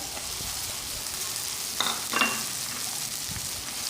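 Two eggs stirred into frying onion in a pan, a steady sizzle with brief scraping stirs of a utensil in the middle, close and moderately loud.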